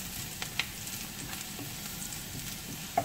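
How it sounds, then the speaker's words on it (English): Garlic frying in a pan for a shrimp curry, a soft continuous sizzle with a couple of small clicks, fairly quiet and without talk. "So now it's put the garlic."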